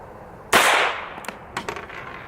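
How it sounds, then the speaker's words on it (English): A single loud, sharp crack of a .22 Long Rifle pistol firing a solid lead bullet outdoors, decaying over half a second, followed by a few fainter knocks and thuds. "So that's a 22 long rifle shooting a solid lead bullet."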